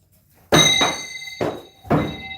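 Throwing knives strike an ash wood target in quick succession, four sharp ringing thunks with a metallic shimmer, the first two close together, then a gap before the last two, loud and close.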